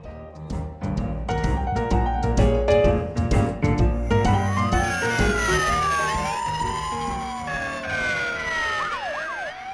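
Several police sirens wail and sweep up and down, loud and close, layered over each other after a burst of sharp percussive hits at the start.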